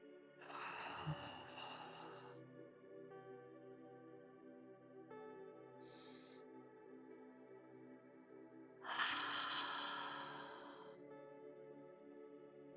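Slow, deep yogic breaths are drawn in and released near the microphone during a guided practice: a long inhale-exhale at the start, a short one midway, and another full breath near the end, over a soft sustained musical tone.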